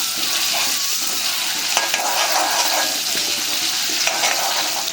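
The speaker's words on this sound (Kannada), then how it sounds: "ಪನ್ನೀರ್ ಇವಾಗ ಫ್ರೈ ಮಾಡ್ಕೊಳೋದ್ರಲ್ಲಿ" Paneer fries in butter in a pan, giving a constant bright sizzle with faint crackle and spatter that stays steady and close throughout, with no one speaking.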